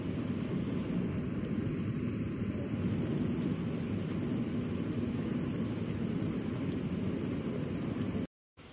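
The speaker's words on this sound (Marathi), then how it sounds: "बाहेर बघतोय तर काय खूप जोरात पाऊस चालू आहे" Heavy monsoon rain falls outside as a dense, steady wash of hiss and low rumble, even and unbroken until a brief cut near the end, with no voices.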